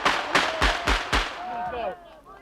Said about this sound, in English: Even here amongst the mourning, gunfire.